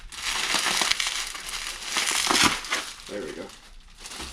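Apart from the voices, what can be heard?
removing bubble wrap from a fishing rod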